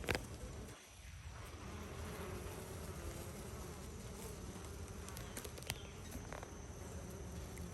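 Honey bees buzz steadily at a hive heavy with capped honey, a dense, continuous drone close by that fills the whole stretch without pause, with no talking.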